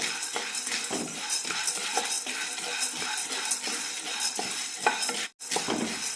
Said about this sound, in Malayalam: വറക്കാൻ തുടങ്ങി രണ്ട് മൂന്ന് മിനിറ്റ് ആകുമ്പോഴേക്കും നല്ലൊരു റോസ്റ്റഡ് സ്മെല്ല് വരും